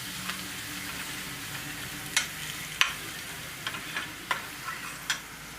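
Chopped chilli and asafoetida sizzling in hot oil for Surati aloo puri, with a steady soft frying hiss and a few sharp spoon taps and scrapes against the pan while stirring.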